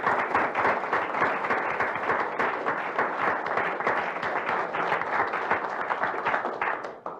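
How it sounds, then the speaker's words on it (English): An audience at a university board of regents meeting claps for presenters and chancellors in a dense, sustained round of applause that holds steady and then tapers off at the end. "Let's give our presenters and our chancellors a round of applause."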